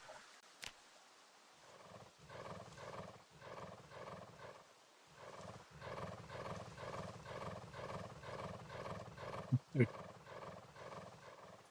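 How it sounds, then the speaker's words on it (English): Sped-up horse sounds from the video game Project Zomboid repeat in a steady rhythm of rough, snorting pulses, quiet and continuous, with a couple of sharp clicks near the end. "Accelerated horse sounds the whole time."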